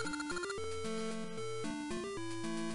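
Chiptune melody playing by a windmill in Zelda: Oracle of Seasons, a bright square-wave tune with a bouncing bass line, steady and continuous throughout with no voices.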